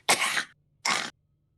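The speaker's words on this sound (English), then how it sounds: "has this sort of really hacking sort of cough" Two harsh, hacking coughs from a slumped smoker, close and loud, the first longer and rougher, the second shorter after a brief pause, with no talk around them.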